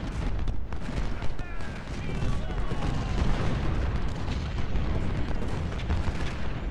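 Cannon batteries firing in Ultimate General: Civil War at the Fredericksburg battle at Marye's Heights, a dense, continuous rumble of booms and volleys overlapping one another, with a voice speaking faintly beneath.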